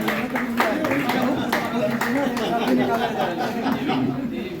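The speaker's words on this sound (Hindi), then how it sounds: "आयोजक और का सम्मान जोरदार तालियों के साथ स्वागत।" Guests at a Kshatriya Mahasabha celebration of Maharana Pratap Jayanti in a city club clap rhythmically to welcome the organisers. The claps are moderately loud and mixed with lively crowd chatter and a voice over a loudspeaker.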